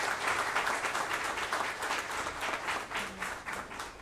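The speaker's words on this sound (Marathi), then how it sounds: "त्यासाठी सुरेशजींसाठी एकदा जोरदार टाळ्या होऊन जाऊ द्या." An audience at a business show breaks into steady applause, a dense wash of many hands clapping together that carries on evenly for several seconds.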